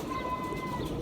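A breeder pigeon gives a soft, low coo close by, a short murmuring call over a steady background hum with a faint thin tone running through.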